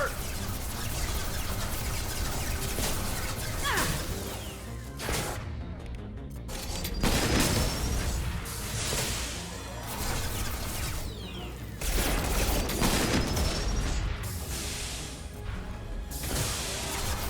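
Weapon fire and combat in Mass Effect 2 on Insanity difficulty, repeated bursts of shots and crashing impacts across a long stretch, loud and busy, with short quieter gaps and a voice speaking at points.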